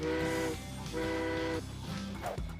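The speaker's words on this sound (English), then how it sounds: "Here you can see how coal is burned in order to power a train." Coal-powered steam train sounding its whistle: two steady toots followed by a shorter third over a low mechanical rumble, moderately quiet and without talk.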